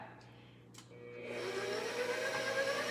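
Electric mixer whipping buttercream icing in a bowl: a quiet start with a brief clink, then the motor ramps up to a steady, close whirring drone that holds to the end.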